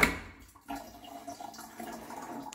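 Water drains and trickles out of a Primo 900130 water dispenser, starting with a brief splash followed by a quiet, uneven gurgling flow, heard faintly.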